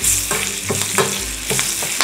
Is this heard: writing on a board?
no